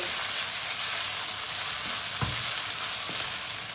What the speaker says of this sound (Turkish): Orta ateşte kavurma işlemine devam edeceğiz.